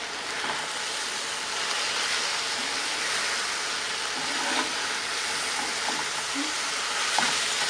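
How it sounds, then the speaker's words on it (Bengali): Water spinach (kolmi shak) frying in a pan, a continuous close sizzle with intermittent soft stirring scrapes and faint clicks throughout. "শাকটা একটু নেড়ে দিব।"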